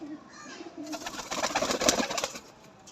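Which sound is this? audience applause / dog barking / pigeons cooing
pigeons cooing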